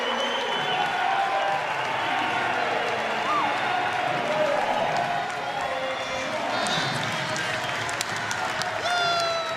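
A standing crowd at an NCAA swimming championship in 2023 applauds and cheers Léon Marchand's record 400-yard swim, a dense, sustained roar of clapping and cheers heard at a distance while commentators talk over it.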